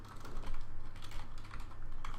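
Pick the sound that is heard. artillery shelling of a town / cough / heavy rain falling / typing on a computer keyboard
typing on a computer keyboard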